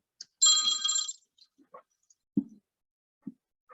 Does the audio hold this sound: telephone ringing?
yes